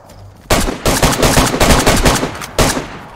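Rapid bursts of gunfire from the survival video game DayZ, loud and close, with repeated shots and short volleys crowding the clip after a quiet start, then a final burst near the end.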